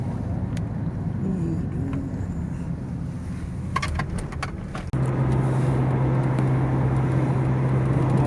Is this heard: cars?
yes